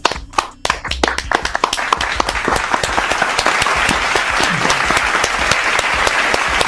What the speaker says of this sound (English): can we clap it up for Dan Quinn for the Evans sighting?